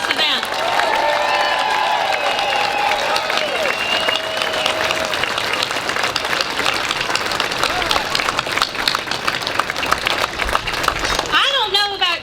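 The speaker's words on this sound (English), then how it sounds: "please give a round of applause to Britton and Tracy Clark and Todd Merson" A crowd at a Columbia Tea Party rally applauds the event organizers with sustained dense clapping, scattered whoops and shouted voices, loud and steady for over ten seconds before a voice comes in near the end.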